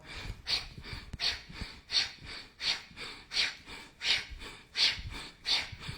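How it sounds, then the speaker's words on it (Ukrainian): Rhythmic breathing exercise during a short energizing workout, about ten sharp, airy breaths at a steady pace, close and fairly loud, with no talking. "Бачите, я експериментую з диханням, ви також поекспериментуйте."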